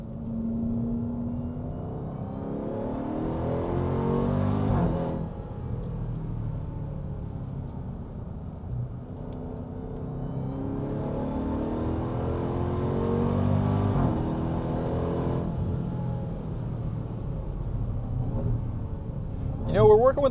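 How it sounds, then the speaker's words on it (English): Dodge Durango SRT Hellcat with its supercharged engine on a race track, a steady loud engine drone rising and falling in pitch through acceleration, with a voice talking over it for much of the stretch. "Love that supercharger noise."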